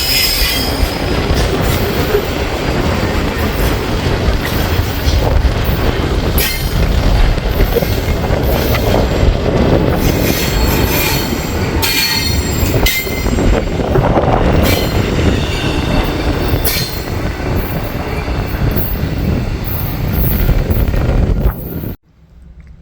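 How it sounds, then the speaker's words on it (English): An eastbound double-stack freight train rolls past near the tracks in Rochelle, Illinois, with loud continuous rumble, clacking wheels, squealing and wind buffeting, ending abruptly. "Alright, so got an eastbound stack train there."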